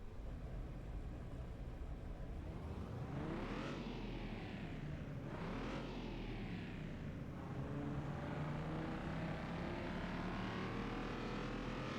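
An Audi RS5 (B9) engine on a dyno in Car Mechanic Simulator 2021 revs hard twice, each time climbing and cutting off sharply at the limiter, then settles into a steady, faint droning run.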